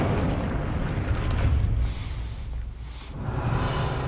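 In Hogwarts Legacy, the Incendio fire spell erupts in a loud, rumbling fiery blast. Its deep roar holds for about two seconds, dips, then flares again.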